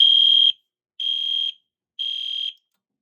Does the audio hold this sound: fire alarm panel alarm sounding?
yes